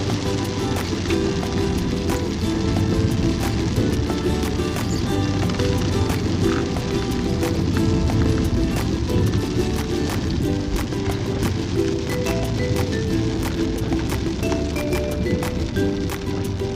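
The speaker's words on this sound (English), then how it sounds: "I don't know why the sound of the rain is very good." Heavy rain on a car while driving, a dense continuous hiss and patter of drops with constant loudness and no talk, scattered sharp ticks of individual drops over a low road rumble.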